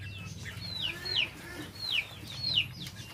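A few soft, repeated chicken calls rise and fall at a steady pace, faint and a little distant, over a low background hum.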